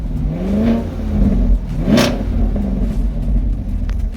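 A Chevrolet Camaro engine in stock form revs up in short blips after a snow storm, close and loud with a throaty rumble and a sharp rise in pitch around the middle.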